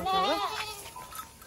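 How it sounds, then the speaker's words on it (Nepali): A pregnant mother goat gives one loud, close, wavering bleat at the start, which then fades into quieter background noise. "यो ब्याउन आँटेको बाख्राको माउ हो"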